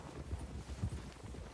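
Horse hooves clip-clop in Red Dead Redemption 2 as a mount moves off, a few soft, muffled thuds in a loose rhythm over a low background rumble, with no talk.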